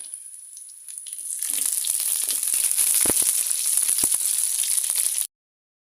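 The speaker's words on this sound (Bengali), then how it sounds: "পেঁয়াজ ভেজে নিব সাত আটটা কাঁচামরিচ দিয়ে দিলাম" Onions and seven or eight green chillies frying in a pan for methi shak bhaji, a steady close sizzle that swells louder after the first second and carries on unbroken, with a few soft stirring knocks.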